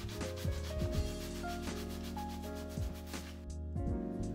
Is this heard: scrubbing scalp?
yes